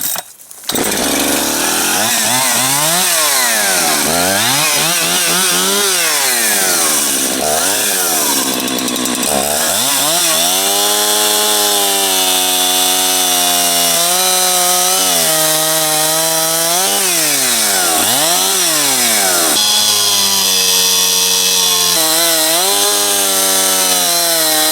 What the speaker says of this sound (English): I'm gonna go grab a real saw